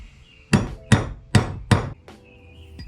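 A hammer taps out an A-arm bushing on a 2020 Polaris RZR Pro XP, four sharp, evenly spaced metallic blows, followed by a brief scrape and a faint ringing tone.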